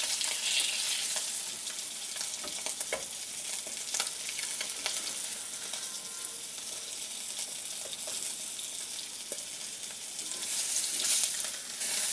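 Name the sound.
tilapia fish frying in oil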